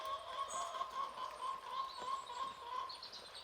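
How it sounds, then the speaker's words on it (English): A young rooster crows in a faint, drawn-out call that holds steady over a quiet morning background. Light chirps and rustling can be heard around it. "Now little C has started crowing as well."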